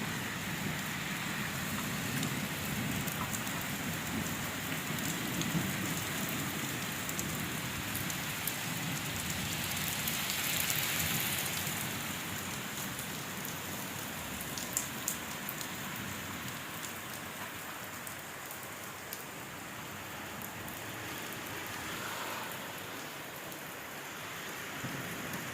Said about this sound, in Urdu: بارش بہت زیادہ تیز ہو رہی ہے یہاں پر